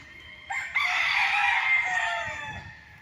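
Several roosters crow in overlapping calls from chicken coops on a farm lot in Liliw, Laguna, loud and near, with faint clucking underneath and no talking.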